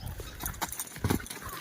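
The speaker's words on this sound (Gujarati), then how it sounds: "હાલ ઘોડી જો હાલી નહીં રહી હવે થાકી રહી છે" A tired mare walks slowly, her hooves clip-clopping in a loose, uneven rhythm, close by in an outdoor setting.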